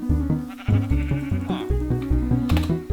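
Sheep bleat in a video game, several overlapping bleats over a thumping musical beat, loud and close, without speech.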